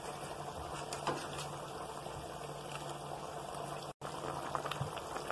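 Jackfruit kofta curry, made with water and garam masala, simmering in a pot, giving a steady low bubbling and burbling close by with a faint hum and a brief dropout.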